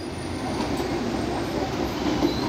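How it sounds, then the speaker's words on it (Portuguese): A Supervia Series 3000 electric multiple-unit train pulls into Edson Passos station with a steady, continuous rumble of rolling wheels and faint rail clatter, loud and close throughout. "Olha lá o trem verde da Supervia."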